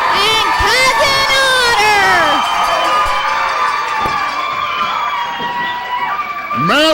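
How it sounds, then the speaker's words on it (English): A loud wrestling crowd at Davis Arena, Ohio Valley Wrestling, roars and cheers steadily with whistles and shouts, sustained throughout and swelling again at the end. "would you listen to this crowd here at Davis Arena"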